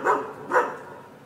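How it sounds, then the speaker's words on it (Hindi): A dog barks twice in quick succession, loud and near, with nothing else heard around it. "कुत्ता भौंकता है"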